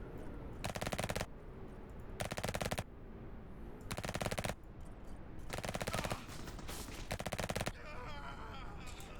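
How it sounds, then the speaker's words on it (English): An SMG in the space game Spacebourne 2 fires five loud, rapid bursts at slow, evenly spaced intervals, each burst a tight clatter of shots, with quieter game ambience between them. "So these SMGs are weird because this one is a 6-round burst"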